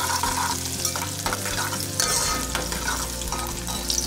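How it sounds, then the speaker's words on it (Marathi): Onion frying in a pan for a Kokani-style chicken curry, a steady close sizzle broken by scraping, clattering stirs of a spoon against the pan, with no talking. "त्यानंतर कांदा टाकायचा आहे, हे असं व्यवस्थित ढवळून घ्यायचं आहे"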